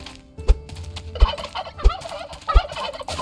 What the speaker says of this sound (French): Oh un dindon!